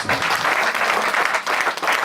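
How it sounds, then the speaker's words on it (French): A church congregation bursts into loud, dense applause, a steady wash of many hands clapping close by for a couple of seconds, with faint voices mixed in. "Donnons une acclamation"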